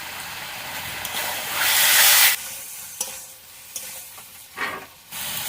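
Tomato goes into a hot pan of chicken curry cooking with milk, setting off a loud hissing sizzle that swells for a second and then settles into crackling frying and scraping stirring.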